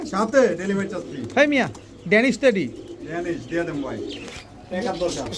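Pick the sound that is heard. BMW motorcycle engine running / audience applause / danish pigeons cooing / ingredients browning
danish pigeons cooing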